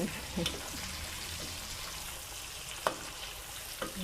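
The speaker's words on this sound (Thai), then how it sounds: "คนต่อไปเป้าหมายเราคือการคน ของอร่อยต้องใจเย็น" Pieces of pork fry in hot oil in a pan while being stirred, making a constant close sizzle with a few sharp scrapes and clacks of the utensil against the pan.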